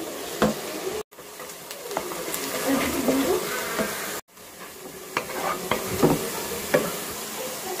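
Onions sizzle and fry in a pan for chicken korma, a close, steady crackle with stirring clatter, broken by two brief cuts.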